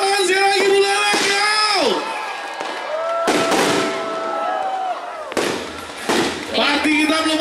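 Fireworks burst repeatedly at a New Year 2020 celebration in Buleleng, with loud crackling explosions and whistling rising trails overlapping one another, while people cheer and talk throughout.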